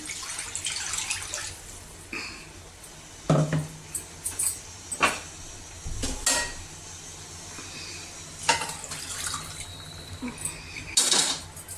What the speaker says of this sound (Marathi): लागन तितकं पाणी ॲड करायचं त्याच्यामध्ये